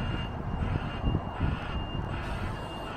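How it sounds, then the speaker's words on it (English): A rear-wheel-steering vehicle reverses as it manoeuvres onto a site, sounding a steady, thin repeating beep above a rumbling engine and outdoor background noise, moderately distant. "this one's got a lot of reversing to do, isn't it?"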